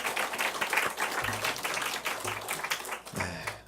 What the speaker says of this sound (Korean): 우리 다시 한번 우리 침례자들에게 박수로